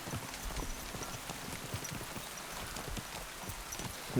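Rhythmic clip-clop of horse hooves on a hard surface in the video game Kingdom Come: Deliverance II, steady and moderately close, over a low ambient hiss.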